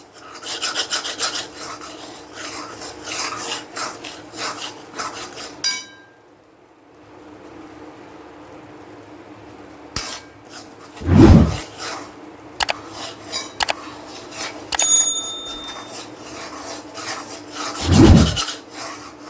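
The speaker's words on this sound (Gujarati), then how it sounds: "જ્યાં સુધી લોટ કલર ના બદલે ત્યાં સુધી આપણે શેકી લઈશું। સતત હલાવતા જ રહેશું।" Flour being roasted in a pan for a Gujarati snack, stirred constantly with a spatula that rasps and scrapes against the metal in long rhythmic strokes, with a quiet pause midway and occasional sharper clinks and knocks.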